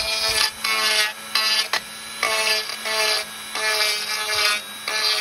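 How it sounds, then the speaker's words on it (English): A Dremel rotary tool sanding a second-hand wooden bowl being made into a yarn bowl, a high whining buzz in repeated bursts of about a second each, separated by short pauses, close and loud. "is the Dremel the right tool, do you think?"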